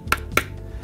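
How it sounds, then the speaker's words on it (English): Footsteps on a wood floor give two sharp, close clicks about a quarter second apart, crisp and moderately loud against a quiet room. "This is the sound of a wood floor."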